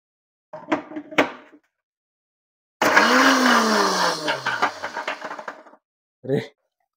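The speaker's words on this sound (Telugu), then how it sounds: "ఇది మిక్సీ చేస్తాం" A blender whirs loudly for about three seconds blending banana and apple, its motor pitch dropping as it runs, with brief clattering sounds before and after.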